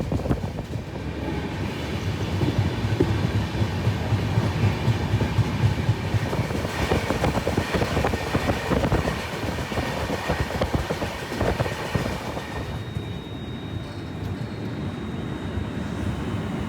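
NJP–Howrah special train running at speed, heard from inside a 3AC coach as a loud continuous rumble with rhythmic wheel clatter that eases slightly toward the end.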